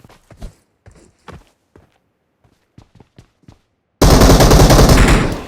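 Gunfire in the mobile shooter BGMI, a sudden loud burst of sustained automatic fire after a run of sparse, scattered clicks and footstep-like taps.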